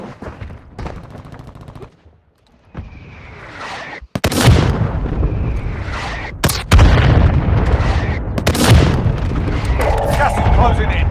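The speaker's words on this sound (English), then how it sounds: "Friendly mortar strike incoming! inbound." Mortar strikes land in Warzone Mobile, heard as a run of loud, heavy booming blasts that follow a quiet pause and keep rumbling for several seconds. A game voice announces over the start.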